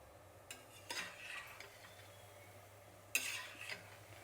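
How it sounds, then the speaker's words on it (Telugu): Shakarpara fries in oil on a low flame, a soft sizzle under occasional clinks and scrapes from stirring in the pan, with no talking. "ఇప్పుడు కూడా నేను సిమ్లోనే పెట్టి వేయిస్తున్నానండి."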